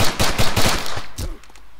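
Rapid bursts of automatic gunfire in the Arma 3 military shooter game, loud close volleys of shots packed together, then quieter scattered sounds as the firing stops.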